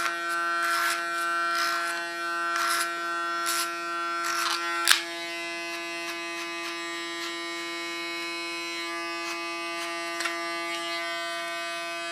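An electric hair clipper buzzes steadily and close up through a basic men's haircut, with bursts of brushing and snipping texture as it cuts hair, and no talking.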